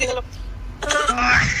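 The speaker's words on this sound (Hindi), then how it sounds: "बहुत बुरी खांसी आ रही" A person clears their throat and coughs in a few short harsh bursts at close range, with brief voice sounds between them.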